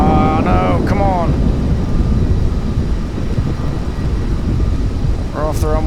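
Game aircraft taking off from a runway in Kerbal Space Program: a steady, loud engine roar and rushing wind noise fill the whole stretch, with a voice talking over it at the start and end.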